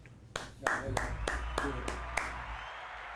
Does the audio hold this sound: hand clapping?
yes